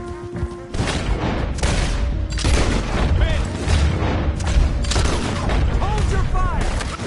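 Shootout gunfire in Red Dead Redemption 2, with a dense, continuous roll of booming shots and clatter running for several seconds after a brief quieter opening, loud and close, with faint chirping tones over the top.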